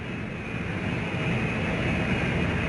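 Aircraft landing at Khe Sanh during the 1968 siege, carrying shells: a continuous, broad engine roar that holds steady and grows slightly louder, with no voices.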